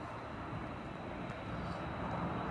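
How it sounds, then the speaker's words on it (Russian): A steady, broad roar of aircraft engines drones on without a break, like airplanes passing high overhead, with no other sounds standing out. "у меня тут еще самолеты летают"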